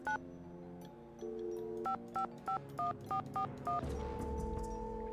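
A car phone in the Nancy Drew game Secret of the Scarlet Hand is dialed: a string of about eight crisp keypad tones beeps in quick succession over a steady tone, ending as a ringing line takes over.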